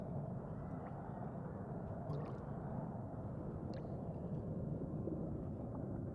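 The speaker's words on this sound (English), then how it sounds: "Why does it sound so underwater and cursed in here" Muffled, murky underwater ambience in the video game I Am Fish, with a steady low rumble and gurgling wash, a few faint high pings drifting through.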